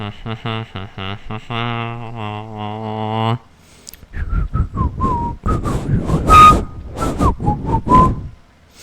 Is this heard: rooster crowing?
no